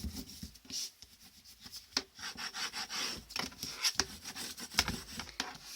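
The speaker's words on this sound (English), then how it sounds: "So I'm just going to press everything down really well with my bone folder now." A bone folder presses and rubs down paper and chipboard pieces on a paper bag mini album, giving quiet, close scraping strokes with soft taps in an uneven rhythm and no voices.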